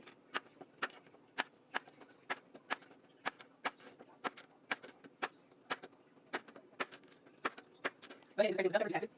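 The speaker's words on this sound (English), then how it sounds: "So go ahead and dice the rest of them up." A knife dicing zucchini on a cutting board, with steady, evenly spaced sharp chops close up, followed by a short burst of rustling at the end.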